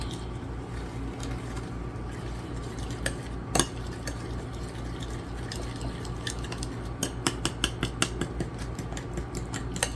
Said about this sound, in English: we're going to give this a good mix